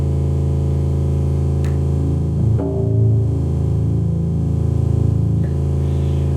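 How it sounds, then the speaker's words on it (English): A Ritchie maximal drone synth with six oscillators all tuned to A holds a loud, steady, buzzing drone with layered harmonics, with a brief swell and wobble in the middle. "It's a maximal drone. So you've got 6 oscillators on there."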